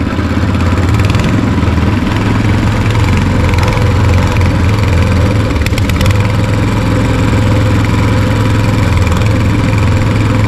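A small boat's engine runs loud and steady at close range, a constant droning rumble that holds for the whole stretch with no voices.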